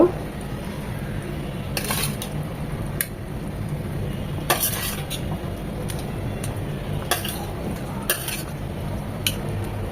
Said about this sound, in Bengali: এখন ভাজা মাছগুলো দিয়ে দেব